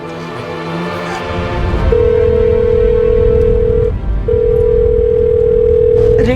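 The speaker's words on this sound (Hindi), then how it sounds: "रिंग जा रही है पर विवेक फोन नहीं उठा रहा है।" Ringback tone of an unanswered telephone call: two long steady tones separated by a short gap, heard over a noisy room background.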